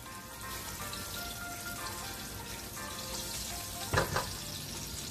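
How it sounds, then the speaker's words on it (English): Chilies frying in two tablespoons of ordinary oil in a wok over high heat give a steady, soft sizzle with a brief louder crackle burst near the end, and no voices. "I have my wok here on high heat with 2 tablespoons of just regular oil, and I put my chilies in there so they can kind of get a little bit fragrant"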